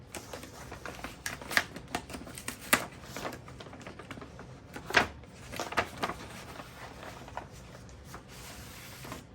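A large white paper envelope of model plans is opened during an unboxing, with close crinkling, rustling and tearing of paper in irregular bursts and no talking.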